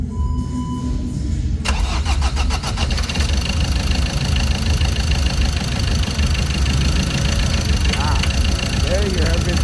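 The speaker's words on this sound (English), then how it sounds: "There you have it, guys. Now the engine is running." A Ford Ranger T6 2.2 diesel engine cranks briefly, catches and settles into a loud, steady idle with a rough, knocking clatter, close to the listener; a short chirping sound rises near the end.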